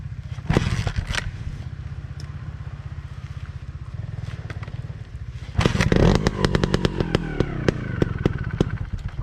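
An enduro motorcycle engine idles and burbles, then revs harder with blips of the throttle while riding in the rain, close and rough with clattering and scraping mixed in.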